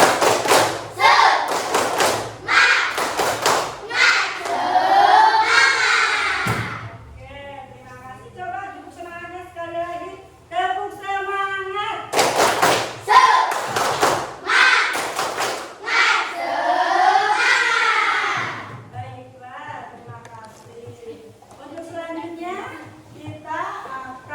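A group claps in quick rhythmic bursts, loud and close, alternating with stretches of children's voices chanting together.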